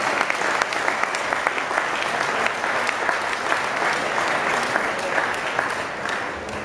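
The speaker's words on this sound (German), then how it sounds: "Nochmal hier Applaus für meinen Boxer" Crowd at an amateur boxing championship bout applauds the boxer after the points decision, steady dense clapping sustained throughout at a fairly even level.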